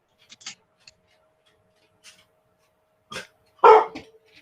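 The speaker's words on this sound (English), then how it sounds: "And the dog is going to bark." A dog barks in a quiet room: a few soft yips first, then a sharp, loud close bark near the end, separated by silence.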